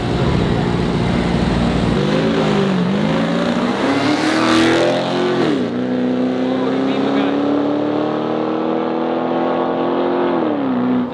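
Street race cars at a takeover, including a 750 hp supercharged car and a BMW, launching and accelerating, with loud rising engine revs that climb, drop and climb again close by, with people talking.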